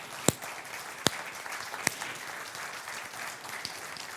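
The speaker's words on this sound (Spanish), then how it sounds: "y el aplauso es para el Señor" Steady applause from a congregation during a church sermon, with a few sharp louder claps standing out, continuing throughout.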